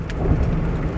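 Rain falls outdoors in a dense, steady hiss with a heavy low rumble underneath, loud and close with no voices, during a stormy spell.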